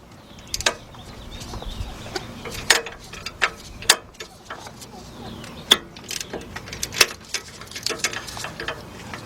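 A 19mm wrench works a bolt on the rear brakes of a 2005 Chevy Suburban, giving irregular metallic clicks and ratcheting ticks up close, scattered across the whole stretch with faint background noise.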